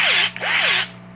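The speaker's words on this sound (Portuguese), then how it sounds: "e já vou furar isso aqui para aproveitar logo" A Skil electric drill driver boring a hole, a loud close whine that rises and falls in pitch over two short bursts, with a brief gap between them and no talk.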